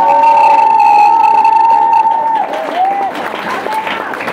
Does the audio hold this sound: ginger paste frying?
no